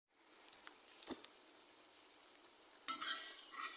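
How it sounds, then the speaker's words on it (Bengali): Water spinach pakoras deep fry in oil with a quiet, steady sizzle. A sharp clink comes near the start, and a louder burst of bubbling follows near the end as more batter goes into the oil. "এইভাবে প্রত্যেকটা পাকোড়া ভেজে নেব।"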